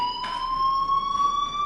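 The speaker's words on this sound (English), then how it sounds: "Hey, do you hear that fire alarm?" Fire alarm in the video game Life is Strange: a steady, piercing electronic tone held continuously with faint pulsing bursts underneath, loud and alone without speech.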